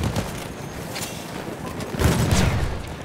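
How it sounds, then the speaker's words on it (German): Gunfire in the video game Battlefield 1, a dense fusillade of shots with booming bursts that swell loudest toward the end. The shots sound distant to mid-range and carry no speech. "Alter, wo kommen denn die Schüsse hierher?"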